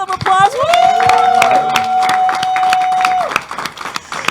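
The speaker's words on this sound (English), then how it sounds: "Let's give ourselves and our audience a round of applause." Audience applause and cheering at an annual final event, sharp claps under a long sustained whistle or shout lasting a few seconds, with crowd noise throughout.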